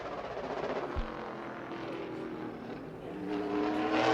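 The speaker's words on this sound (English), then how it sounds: "our second car makes its way out on the speedway" A late-model race car on a qualifying lap at New Smyrna Speedway, its engine a steady distant drone that swells slightly toward the end, with no talk over it.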